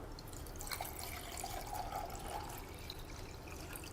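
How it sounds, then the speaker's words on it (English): Water pours from a container into a pot set on a camping stove, a faint steady trickle and splash running the whole time with no voices. "Let me add my 2 cups of water."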